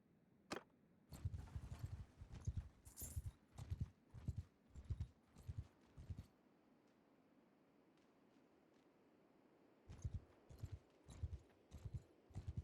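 Horse hooves clop in a quick, rhythmic beat while riding in Mount & Blade II: Bannerlord, stop for a few seconds of near silence, then pick up again, close and clear.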